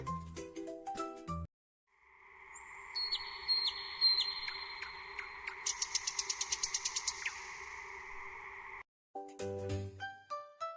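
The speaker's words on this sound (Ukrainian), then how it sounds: "Тепер тіні зникли і пташки знов заспівали" Birds chirping and singing in bright trills and rapid repeated notes, standing alone between bursts of other sounds at the start and end.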